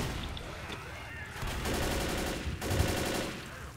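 Gunfire rattles in the zombie shooter game Left 4 Dead, rapid automatic bursts of shots that come in fast, dense stretches, moderately quiet under a steady game soundscape.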